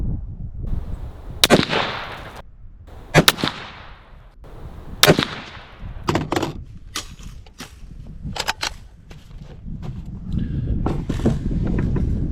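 Ruger American Generation II .223 rifle fired at an outdoor range: several loud, sharp reports spaced a second or two apart, each ringing out with a brief echo, over steady background wind and rumble.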